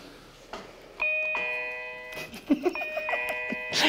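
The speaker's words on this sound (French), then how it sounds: "Et je crois même qu'elle a une petite sonnette." A small electronic toy dollhouse doorbell chime plays a short run of bright, ringing tones, with light handling clicks and rustling around it.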